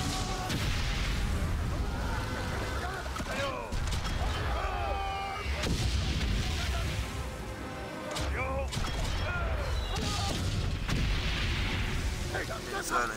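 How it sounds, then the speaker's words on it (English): Artillery fire and explosions rumble and crash in the World War video game Valiant Hearts, heavy booms recurring through the stretch beneath game music and a person talking over it. "Did you just stand in the middle of an explosion and survive?"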